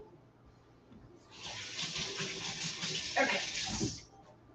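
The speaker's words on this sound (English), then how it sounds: "I just give my hands a rinse" Tap water runs in a kitchen sink as hands are rinsed: a steady close hiss of flowing water for a few seconds, then it stops, with a brief spoken word early on.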